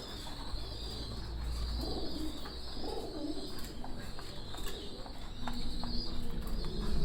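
Several pigeons at a Pakistani pigeon farm cooing softly in low, rolling calls, with faint chirps and a constant background hiss around them.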